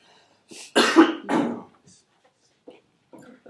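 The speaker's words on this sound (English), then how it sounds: "That cough just now probably made all of you feel uncomfortable." A person gives a couple of harsh, close coughs in quick succession, followed by quiet moments and faint small sounds.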